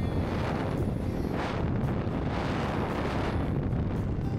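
Strong wind buffets the microphone on a road on Samal Island, a steady broadband roar with gusts swelling and easing throughout and no voices.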